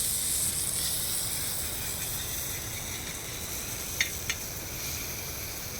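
Sankara fish frying on a hot pan, a steady broad sizzle and hiss throughout with two brief sharp clicks near the end.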